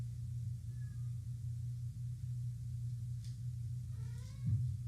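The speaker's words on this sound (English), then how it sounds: "Keep hearing the cats" A cat gives a short faint chirp early on, then a brief meow near the end, both quiet and set against a constant low droning hum.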